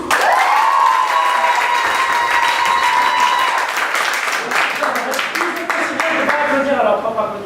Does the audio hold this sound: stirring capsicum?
no